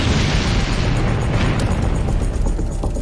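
A powerful chemical-plant explosion during a chemical fire makes a loud, sustained broadband roar with rumbling low end, lasting throughout with no clear pause.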